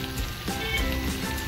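Crushed green chilli sizzles steadily in a hot pan, a continuous close hiss and crackle without a break.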